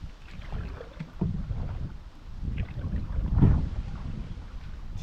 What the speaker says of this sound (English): Oh, that's the kind of wind you want.